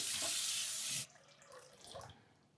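Water for bread dough runs steadily from a tap into a container for about a second, then stops, followed by faint kitchen handling sounds.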